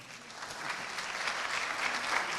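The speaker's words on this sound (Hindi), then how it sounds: "सहमत हो तो तालियां बजाएं।" Steady applause from a large live audience at a festival-of-ideas stage event, a dense continuous wash of clapping that swells slightly toward the end, with no talk over it.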